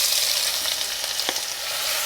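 Onions sizzling in a pan with pork juices, a steady close crackling hiss with a faint scrape partway through.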